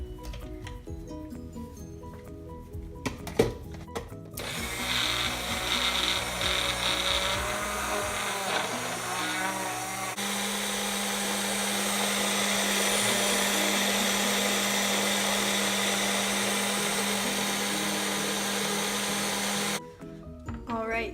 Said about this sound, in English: put the lid on, and then blend it together